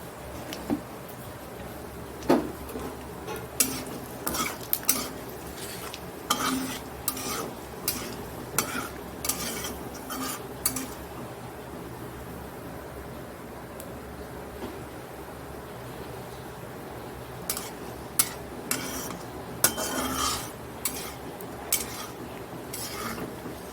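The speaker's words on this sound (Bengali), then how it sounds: "এখানে তেল দেওয়ার পরে জিরেটা দিয়ে দিলাম এখানে তেজপাতা দিয়ে দিলাম দুটো" Cumin seeds and two bay leaves in hot oil give a faint sizzle beneath frequent sharp clinks and scrapes of a spoon stirring against the pan, in irregular bursts with quieter pauses.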